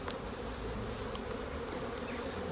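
Honeybees drone in a dense, unbroken buzz around an opened beehive during a spring inspection, close up, steady and fairly loud, with no voices.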